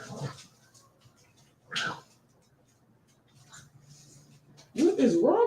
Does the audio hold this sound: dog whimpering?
yes